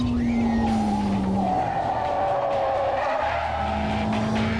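A car makes a handbrake turn at speed, its tires squealing in a long sustained screech over the loud engine roar, heard close from inside or beside the car.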